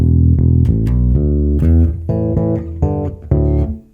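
A fingerstyle bass guitar groove riff, loud and close, with quick plucked notes in a bouncing rhythm that fade out at the end.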